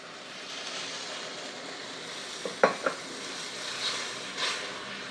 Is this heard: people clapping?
no